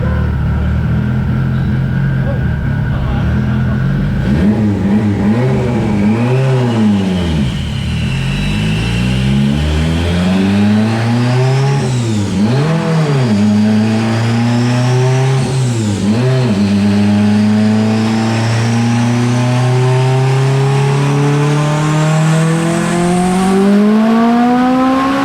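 A boosted, sleeved Mitsubishi Evo X engine runs hard on a dyno, loud and close, its pitch repeatedly sweeping up and dropping back, then climbing steadily in a long sustained pull to high revs.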